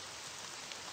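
Rain pours from a television screen in the Heartless Mansion game, a soft, even hiss of steady rainfall with no voices.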